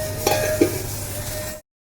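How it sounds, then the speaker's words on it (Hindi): Dal is tempered with asafoetida and cloves in hot oil in a home kitchen, giving a steady close sizzle with a couple of brief stirring clinks before it cuts off abruptly. "बस छौका तड़का लगाना है इसमें, बस थोड़ा सा हींग और लौंग का।"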